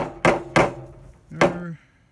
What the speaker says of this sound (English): Doing it the old-fashioned way, hammer and nails.